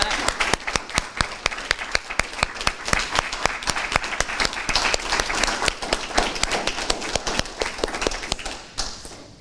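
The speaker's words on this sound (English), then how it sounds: "Big round of applause for Molly at Operation Iron Ruck." Audience at a university student government senate meeting claps in sustained applause, dense sharp hand claps filling the whole stretch, loud and close, fading slightly near the end.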